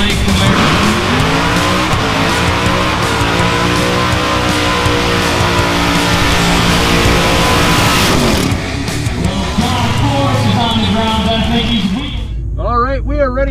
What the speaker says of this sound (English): Your 2013 Chevrolet Camaro.